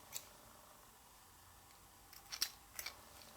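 Scissors snipping crochet yarn after finishing a small granny square motif, a few faint, quick clicks and snips clustered near the end against a quiet room.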